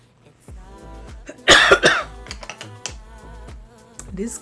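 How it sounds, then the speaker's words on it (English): A single sharp, loud cough bursts out amid quiet indoor tapping and rustling, followed by a few softer breathy throat noises. "This cough is like killing me."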